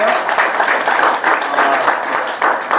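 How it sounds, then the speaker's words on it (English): A meeting audience applauds for a speaker, a short burst of brisk, close clapping with some voices mixed in. "The forced applause."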